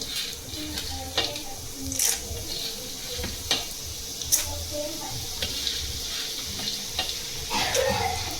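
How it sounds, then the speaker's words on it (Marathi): Roasted chana dal (futana dal) frying in hot oil for Diwali chivda, giving a steady soft sizzle with occasional sharp clinks and stirring scrapes from a pan, heard close up. "आता आपण फुटाण्याची डाळ तळून घेऊ."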